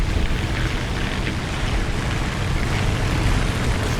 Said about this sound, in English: There are lots of plane engines.